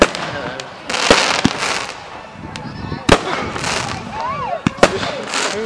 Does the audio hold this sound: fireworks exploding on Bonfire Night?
yes